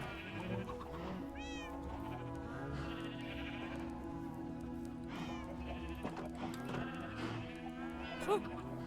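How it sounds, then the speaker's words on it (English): Several sheep bleat repeatedly at moderate distance in a quiet setting, with wavering cries overlapping in bursts over a low steady hum, and a person speaks briefly between them. "Come on, sheep."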